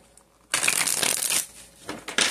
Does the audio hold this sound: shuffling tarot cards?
yes